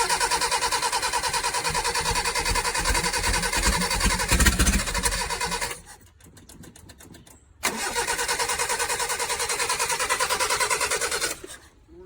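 A Toyota Tercel Wagon SR5, rescued after being abandoned, runs on choke with a loud, close, fast-idling engine drone that drops off for a moment, then catches and roars steadily again before cutting out.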